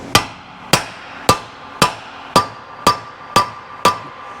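A hammer strikes a piece of wood to drive a wheel hub seal into a rear hub on a full-floating Ford Dana axle: eight sharp, evenly spaced blows, close and loud, with no talking.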